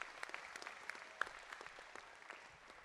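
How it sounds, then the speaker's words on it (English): Applause for a tech crew at an American Legion Boys' State New York session, heard as a faint, distant round of scattered clapping with a few sharper individual claps, no talking over it. "Can we all give a nice round of applause to our tech guys and Ben?"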